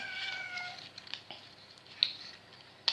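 An indoor cat meows a few times, faint and close, in short separate calls over quiet room tone.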